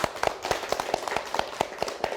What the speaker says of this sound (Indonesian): Kita berikan tepuk tangan dulu untuk.